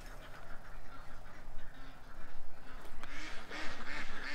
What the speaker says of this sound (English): the show has been hijacked by the geese